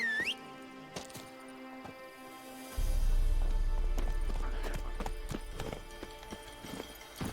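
Roach the horse in the Witcher 3 video game breaks into a gallop, rapid rhythmic hoof clip-clops with a low rumbling run building up after a quieter opening, continuing steadily to the end.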